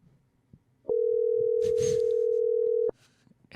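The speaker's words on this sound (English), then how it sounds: "It's ringing." A steady outgoing-call telephone ring tone sounds once for about two seconds, clear and close, with faint background talk around it.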